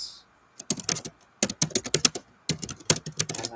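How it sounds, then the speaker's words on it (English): Typing on a computer keyboard, quick bursts of sharp clicky keystrokes in three runs separated by short pauses, close and clear with no talking. "Let me just type this out."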